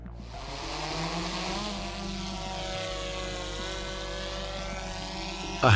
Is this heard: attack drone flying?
yes